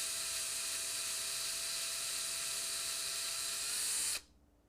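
A power drill bores a bit into an acrylic keychain blank with a steady, loud, high-pitched whine that runs unbroken for about four seconds, then cuts off sharply.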